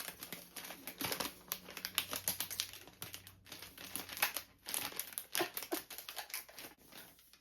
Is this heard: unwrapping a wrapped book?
yes